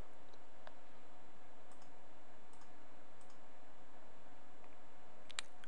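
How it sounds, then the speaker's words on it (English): A computer mouse clicking, a few faint, sparse clicks scattered across a quiet room with soft background hiss, the last click slightly louder, no voices. "So we click there, we go to browse"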